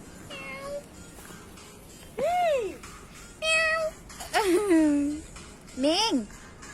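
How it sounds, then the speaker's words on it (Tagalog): Cat meowing, several loud, close, drawn-out meows with rising and falling pitch spaced a second or so apart, while a person also speaks. "Meow, meow. Meow. Meow."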